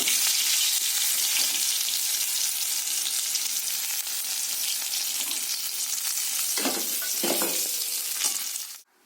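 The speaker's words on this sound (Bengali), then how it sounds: "এবারে যে মাছের লেজাটা ডিমটা আছে ওটা ভেজে নেব" Fish fries in hot oil with a loud, continuous crackling sizzle close to the pan, a few louder bursts of spattering near the end before it cuts off abruptly.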